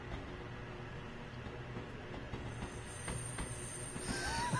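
Glasgow Underground subway train running in a train video game, a steady rumbling roll with rising wheel squeal and a sharp screech near the end, no voices.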